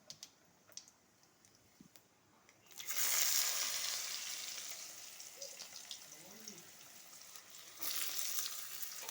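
Chopped carrot hits hot oil in a pan for sago khichuri. After a few quiet seconds, a loud, close sizzle bursts in and settles into a steady fry, swelling again near the end.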